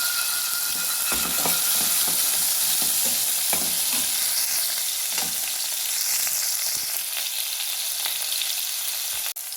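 Chopped onions and tomato sizzle in a pan for beef curry, a steady bright frying hiss close by, punctuated by occasional scraping stirs and clinks.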